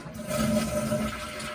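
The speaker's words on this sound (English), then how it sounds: "I am ready to flush the toilet." A toilet flushes with a steady rushing and gurgling of water, close by and fairly loud, tapering slightly toward the end.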